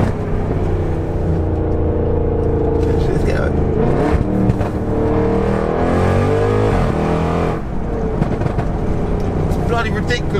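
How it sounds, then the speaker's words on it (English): Audi RS6 engine in individual mode revving loudly and continuously, with deep low rumble rising and falling in pitch; someone talks over the engine noise throughout. "put the RS6 in my individual mode. Just listen to this car"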